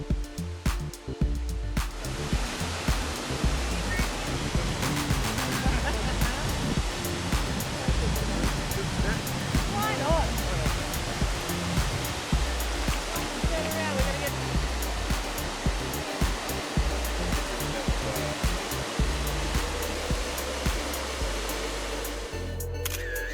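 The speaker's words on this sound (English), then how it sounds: "we made a quick stop to see the Fantail Falls, which are located in Mount Aspiring National Park" Fantail Falls, a 75-foot waterfall dropping into the Haast River in Mount Aspiring National Park, New Zealand, gives a constant, dense roaring rush that stays loud and steady for over twenty seconds.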